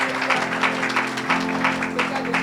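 A church congregation breaks into steady, dense applause at a Christian worship gathering, with clapping sustained and fairly loud across the moment, backed by a held musical tone beneath it.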